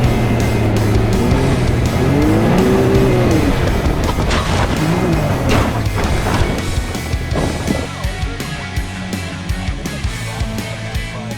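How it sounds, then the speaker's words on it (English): Can-Am off-road vehicles racing and drifting on a track, engines roaring loudly with rising and falling revs, several passing close by amid tire noise, continuous throughout. "we're gonna start with Can-Ams, and hopefully everyone gets a chance to drive"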